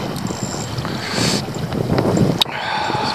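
Wind gusting and roaring across open water around a canoe on a spring brook trout trip, a steady loud rush with buffeting on the microphone and a brief knock near the end.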